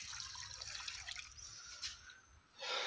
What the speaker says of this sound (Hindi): अभी पानी डालना रह गया है और अब मैं डालूँगा पानी